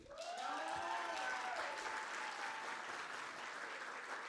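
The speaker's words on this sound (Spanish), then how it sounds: "El aplauso bien fuerte para Ecopetrol" Applause at a shared services awards ceremony for Ecopetrol, Colombia's state petroleum company; a steady, fairly soft wash of clapping from an audience, with a brief tonal sweep early on.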